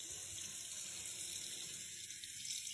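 A tap runs steadily into a sink as a young boy waits to rinse his face, a close, even hiss of flowing water with no break across the whole span.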